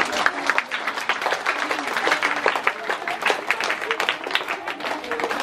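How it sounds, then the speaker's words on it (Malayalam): Applause from a small gathered audience at a birthday celebration, steady clapping that runs for several seconds at close range. "ഒരു കയ്യടി"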